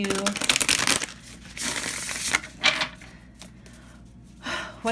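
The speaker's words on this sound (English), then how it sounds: "So for pile 4, I'm going to shuffle real quick." A deck of Tarot of the Curious Creatures cards is shuffled quickly by hand, giving dense riffling and crinkly rustles in close bursts with pauses between them.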